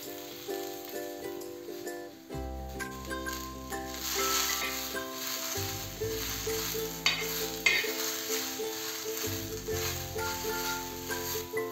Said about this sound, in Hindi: अब इन सब चीज़ों को हम फ्राई कर लेते हैं।